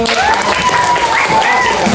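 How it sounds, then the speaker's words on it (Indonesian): Short burst of audience applause at a teacher appreciation event, steady close clapping with whistle-like tones and a few voices under it. "Oke, tepuk tangan untuk."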